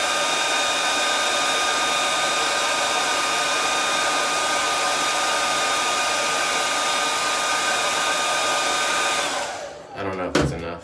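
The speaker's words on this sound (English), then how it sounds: "I'm gonna try heating it up with a hairdryer first and seeing if that makes it easier to apply" A hairdryer blows steadily and loudly up close while warming hard beeswax, a constant rushing whine that cuts off near the end, followed by brief handling clatter.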